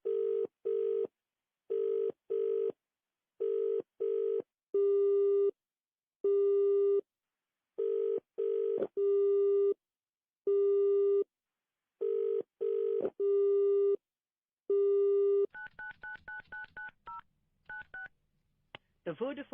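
Mobile phone tones while dialing a number: a long run of short, evenly spaced beeps, then steady longer tones, ending with a chirpy network announcement signal, clear and close.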